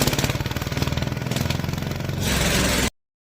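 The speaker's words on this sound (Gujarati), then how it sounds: "હા, આપણે રોડે ચડી ગયા છે ટ્રેક્ટર લઈને" A farm tractor engine runs steadily on a road, a close, loud, rapid chugging rattle that holds an even rhythm before cutting off abruptly.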